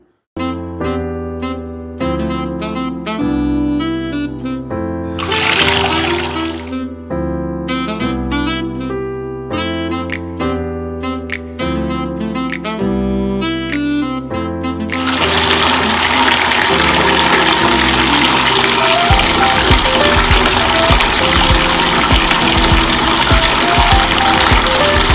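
Water gushes steadily into a bathtub being filled for a bubble bath, starting about midway and continuing as a loud, constant rush beneath music that plays throughout.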